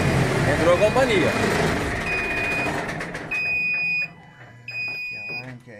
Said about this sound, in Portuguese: Que alarme que é esse?